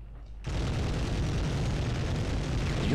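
A large explosion in the Medal of Honor video game starts abruptly and goes on as a sustained, loud, booming roar with a dense low rumble.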